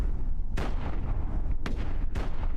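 Mini nuke launcher fired in a video game, three heavy booming blasts spaced about a second apart over a constant loud rumble.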